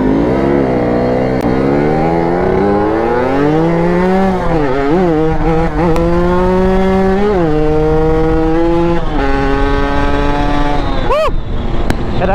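A Kawasaki Ninja RR two-stroke motorcycle engine revs loud and close, its pitch climbing and dropping in repeated rising sweeps across a dozen seconds.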